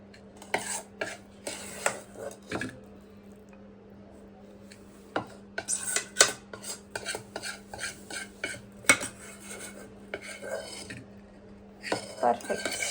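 A spoon mixes mango coconut pickle in a big bowl, making close, intermittent scraping and clinking strokes against the bowl, with a few sharper taps between softer rubbing sounds.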